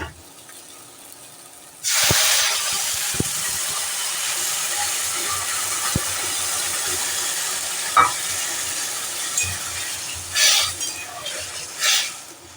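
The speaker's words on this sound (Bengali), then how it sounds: "এবার আমরা গরম জলটা ঢেলে দেবো" Hot water poured into pumpkin curry frying in a pan, a sudden loud hiss and steamy sizzle that bursts in after a quiet start and continues steadily, with a few clinks and bubbling bursts near the end.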